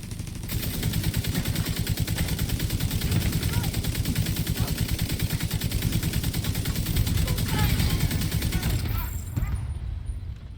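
Rapid automatic gunfire in the video game The Division 2, a dense continuous stream of shots lasting about nine seconds before cutting off abruptly, loud and close.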